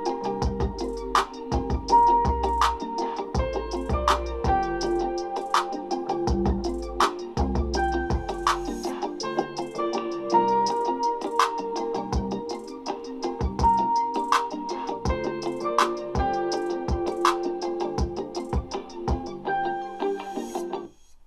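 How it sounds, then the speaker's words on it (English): A hip hop beat plays alone at a steady tempo, with punchy drums and deep 808 bass hits under a repeating keys melody, clear and full. "So then all together with the drums, the 808, and the keys, it sounds like this."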